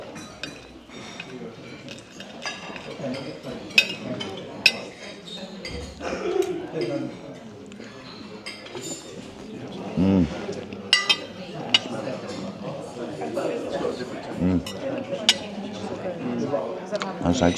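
Cutlery scrapes and clinks against a plate while cutting poached eggs on a slightly wobbly hotel table, with repeated small taps and clinks close by under ongoing conversation.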